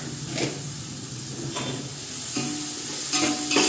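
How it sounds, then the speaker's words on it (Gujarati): Turmeric and spices being stirred into dal in a pot: soft scraping strokes at intervals over a low steady sizzle and hiss, fairly quiet and close, with no voices. "હલાવી દઈશું એકવાર"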